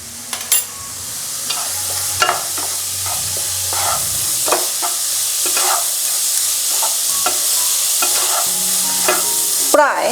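Spiced cauliflower paratha filling with garam masala is stirred and fried in a pan over medium flame, with a steady close sizzle and repeated scraping spoon strokes throughout, no talking.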